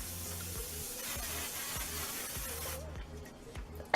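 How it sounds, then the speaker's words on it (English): Hairspray is lightly misted onto hair in a soft, faint hiss lasting a few seconds before fading, with a quiet rhythmic thumping beat in the background. "I'm just gonna grab some hairspray, lightly mist it."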